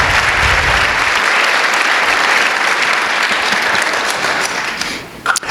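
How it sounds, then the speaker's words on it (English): An audience applauds loudly and steadily at a talk, the clapping dense and continuous before tapering off near the end. "So another round of applause,"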